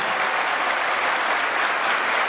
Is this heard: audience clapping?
yes